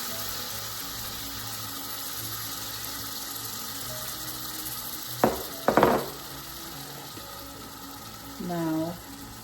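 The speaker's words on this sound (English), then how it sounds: "I'm gonna drop in a little bit of water" Sizzling ground beef in a frying pan as a little water is added, steady crackle broken by a couple of sharp splashing bursts midway and a brief clatter near the end.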